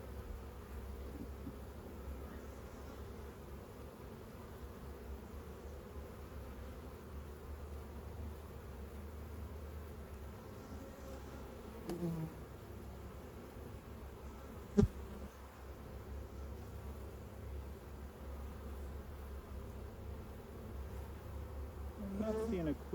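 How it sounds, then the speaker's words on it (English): Large swarm of honey bees crowding a hive, a continuous dense buzzing drone holding steady throughout, with a couple of brief knocks and handling sounds along the way. "there are a lot of bees in here"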